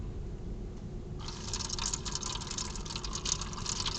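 A garden water pump, driven by an Arduino-based garden controller, kicks on after a second of low hum and sprays water in a steady, fairly close hiss with splashy flutters, no talking over it.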